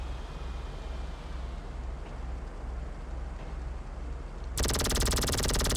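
A custom laser beam weapon fires in a video game, bursting in suddenly as a loud, dense, rapid buzzing stream after a long stretch of steady low background rumble.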